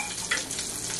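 Marinated mackerel frying in a pan, a close, steady hiss and crackle of sizzling oil with a brief louder spatter near the start.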